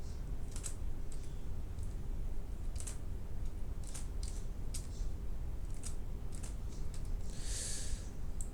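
Fingers type on a computer keyboard in a steady run of close, crisp key clicks over a constant low background hum, with irregular pauses between bursts of keystrokes.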